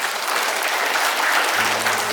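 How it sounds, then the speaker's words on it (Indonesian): A congregation at a healing worship service claps together in sustained applause, a dense and even patter of many hands that holds steady throughout, with a low hum entering near the end. "Ayo tepuk tangan, ya."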